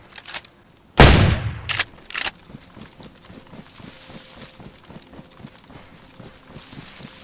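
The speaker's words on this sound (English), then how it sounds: "Oh, no, he's shooting at me." Gunfire in the survival game DayZ: a loud close shot, then a couple more sharp cracks, followed by a rapid rhythmic patter of fainter repeated shots or footfalls.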